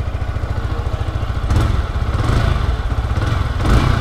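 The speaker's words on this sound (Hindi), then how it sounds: "अब थोड़ा सा रेव कर लेते हैं।" A 2023 Yamaha R15 M motorcycle engine idles with a steady throb, then is revved in a few short bursts that rise and fall, loud and close with no talking.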